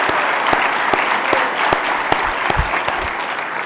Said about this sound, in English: Please give him a huge round of applause for everything he does.